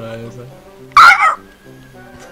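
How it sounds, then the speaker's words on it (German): A kicked dog in the video game Brick-Force lets out a single sharp, loud yelp in the middle, set against a sustained game music tone, with a voice speaking briefly. "Das ist der Hund, den man getreten hat."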